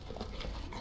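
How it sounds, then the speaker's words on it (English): A dog whimpers in the Dragon Age Origins video game, a short, soft whine over a dense ambient game backdrop, less than a second long with no voice over it. "Bloody dog."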